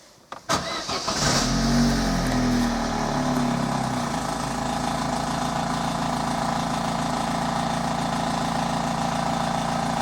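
A Vauxhall Corsa engine cranks briefly and catches, then settles into a steady, close idle that runs on without talk.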